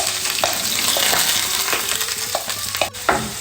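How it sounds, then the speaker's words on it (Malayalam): Mustard seeds and onion frying in a pan, a dense continuous sizzle with scattered crackles and stirring scrapes, close and fairly loud with a brief dip near the end, no voices. "ഇതിപ്പോൾ കടുക് പൊട്ടുന്നുണ്ടെങ്കിൽ ഉള്ളി ഇട്ട് കൊടുക്കാം"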